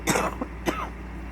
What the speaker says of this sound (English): I still have this awful cough.